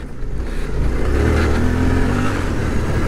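A Suzuki V-Strom 800DE adventure motorcycle engine pulls steadily under acceleration on a ride, a continuous close mid-pitched drone with rising revs and wind rush, no talking.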